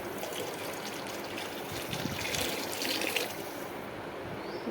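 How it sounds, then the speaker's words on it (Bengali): Water pours steadily into a cooking pot for khichuri, a continuous close trickling stream that swells slightly in the middle before easing off. "দেখো এই পানিটাই আমি দিয়ে দিচ্ছি এখানে, বেশি করেই দেব"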